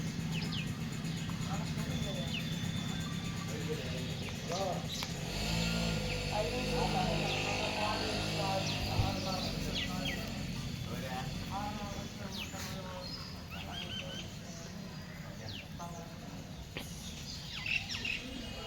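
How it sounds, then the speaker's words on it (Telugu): Birds call and chirp repeatedly through a steady outdoor hillside ambience on the path toward the Ahobilam hill shrine, their calls moderately distant, with people talking over them in places. "అన్ని పక్షులు"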